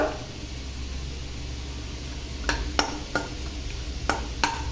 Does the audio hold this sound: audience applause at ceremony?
no